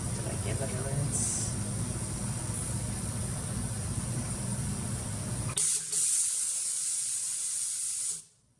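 A steam cleaner hisses steadily while steaming a jewelry chain, a loud, close, continuous jet with a low rumble that drops out partway through before the hiss cuts off at the end.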